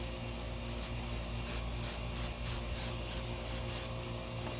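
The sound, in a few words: cooking spray sprayed onto egg rings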